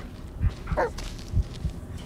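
Bullet the dog barks in the Blair Witch video game, a few low, muffled woofs spaced over about two seconds with one brief higher yelp in the middle, moderately quiet and alone.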